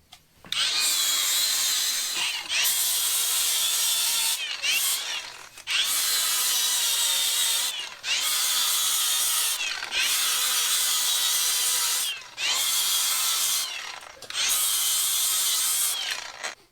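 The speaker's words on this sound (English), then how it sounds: "I'm going to grind it down as far as I can." A power grinder grinds down welds on a steel crossmember modified for a diesel swap in a TJ Wrangler. The loud, close, harsh whine comes in long bursts of about two seconds, separated by brief pauses, with no talk.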